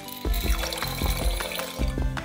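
Unpopped popcorn kernels pour into a jar of water mixed with baking soda and food coloring, making a close run of splashy, rattling pours and drops in a few distinct bursts, with no voices.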